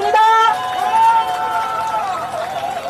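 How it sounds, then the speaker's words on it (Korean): Crowd applause at an election rally: a short burst of clapping and cheering from a large outdoor gathering, mixed with a sustained tonal sound from the rally sound system. "큰 박수 부탁드립니다."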